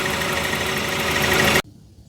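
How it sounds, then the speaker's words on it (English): A 1994 Jaguar XJ6 engine running on a GM ignition module makes a loud, even mechanical roar close by, then cuts out abruptly, leaving near silence. "So that's running with that GM ignition module"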